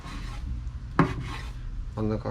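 Knife slicing a young tuna in half on a cutting board, with a sharp knock of the blade against the board followed by soft rubbing, scraping cuts close by under low room noise.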